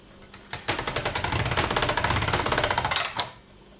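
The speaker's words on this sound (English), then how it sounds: "before I put it in the pasta machine" A hand-cranked pasta machine rolls polymer clay through its thickest setting in a rapid run of rhythmic clicking pulses that lasts about three seconds, close and alone.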